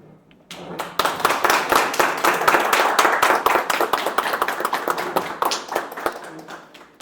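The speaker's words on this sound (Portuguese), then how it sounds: "convidamos que fiquem de pé para que possamos fazer uma ovação e salva de palmas para ele, pela sua memória" A standing audience at the official opening of a national collectors' meeting in Goiânia claps in tribute. Dense, sharp hand claps start abruptly after a quiet moment and continue loudly and steadily, easing slightly toward the end.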